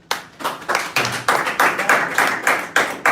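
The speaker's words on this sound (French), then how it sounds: "Est-ce qu'on peut applaudir pour notre maman?" Audience clapping together in a steady rhythmic beat, about ten close, distinct claps over three seconds.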